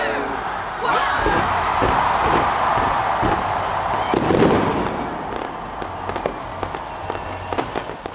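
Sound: fireworks display over Auckland harbour at New Year

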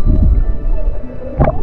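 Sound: person imitating a whale call

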